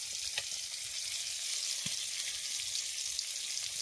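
Fish frying in a pan of hot oil, a steady bright sizzle held at an even level throughout, with a couple of small pops and clicks early on and no voices.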